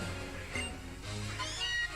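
A cat-like Pokémon cry from the Pokémon Moon video game on Route 17, a couple of short tonal meows over steady game music, moderately loud.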